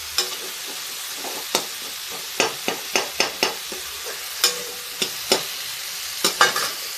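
Tomatoes frying in a pan with onions: a low steady sizzle runs underneath, broken by a string of sharp spoon scrapes and taps against the pan at irregular intervals, with no talking.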